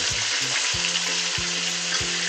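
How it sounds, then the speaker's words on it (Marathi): Stuffed brinjals fry in plenty of oil, giving a loud, steady sizzle and crackle throughout, with no voices. "मग काही अशा प्रकारे वांगी तेलामध्ये सोडलेले आहेत। आता ते फ्राय व्हायला, शिजायला थोडंसं टाइम लागेल"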